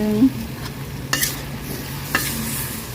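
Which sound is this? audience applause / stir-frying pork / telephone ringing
stir-frying pork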